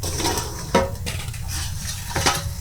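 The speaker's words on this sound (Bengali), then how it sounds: "এবার ঢাকনাটা খুলে দেখব সেট হয়েছে কিনা" A metal lid is lifted off a pot of small bowls steaming a two-colour sweet, giving a couple of sharp metallic clanks against a steady hissing background, close and fairly loud.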